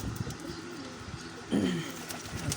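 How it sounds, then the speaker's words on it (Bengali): A pigeon in a loft gives a soft, throaty coo that rises briefly midway, fairly near, over a hiss of faint background noise and without talk. "আমার ফেভারিট কবুতর এটা"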